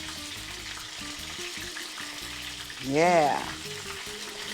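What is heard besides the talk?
green chiles cooking in a pan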